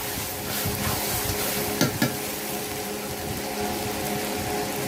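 Cumin paste sizzles and fries steadily in a hot pan while a mutton curry is cooked, with a couple of brief stirring clatters near the middle and no talking.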